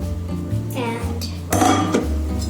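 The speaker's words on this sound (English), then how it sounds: "stir that with your spatula" A spatula stirs sieved cacao powder and baking powder in a bowl for a chocolate banana cake, giving close scraping strokes and light clinks against the bowl.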